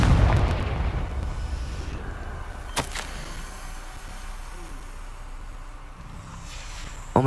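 Spell blasts from the Hogwarts Legacy video game, Bombarda and Confringo: a dense burst of booming explosions at the start, then a single sharp crack near the third second, with rumbling effects continuing underneath and a final hit at the end.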